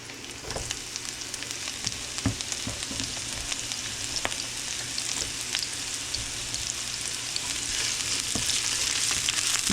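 Shallots sizzle in a sauté pan, a dense, continuous crackling fry with occasional sharper pops and stirring knocks, heard close and steady with no voices.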